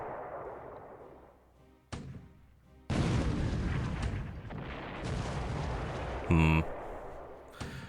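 Naval shellfire in the game War in the Pacific: Admiral's Edition lands on a ship in a series of loud booming blasts and rumbling impacts, with a sharp rattling burst near the end.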